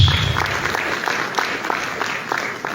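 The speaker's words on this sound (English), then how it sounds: "Can we give her another round of applause?" Applause from the audience at a medical college convocation and general meeting, sparse claps spread across the hall at moderate level, with periodic louder clusters, and no voices over it.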